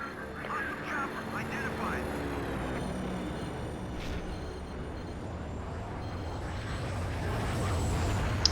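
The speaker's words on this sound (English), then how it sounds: "another takeoff again as the AC-130 heads upwards" An AC-130 gunship takes off in Battlefield 2 AIX, a steady droning engine roar with a low rumble that swells slightly toward the end.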